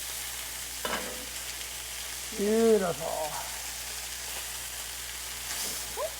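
Peppers fry in a hot pan, giving off a faint, soft sizzle, while a voice speaks briefly and a clattering stir rises in the middle.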